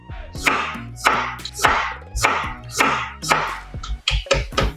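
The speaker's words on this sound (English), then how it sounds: "We just slice the carrots." A knife slices through carrots on a cutting board for Korean-style deep-fried vegetables, giving a steady run of crisp, close chopping strikes, about two per second, with no talk.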